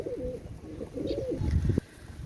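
Pigeons coo close by, Mysore and Benaras hens, giving a short run of low, throaty, rolling coos over a quiet background.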